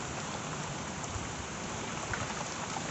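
Steady rain falls on a balcony garden, a dense, even patter of drops on leaves and surfaces close by, continuous and unbroken with no voices.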